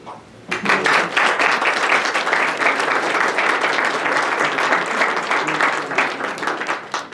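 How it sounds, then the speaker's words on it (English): A large audience bursts into sustained applause, many hands clapping densely and steadily at full volume for several seconds. "we should all join in a big round of applause"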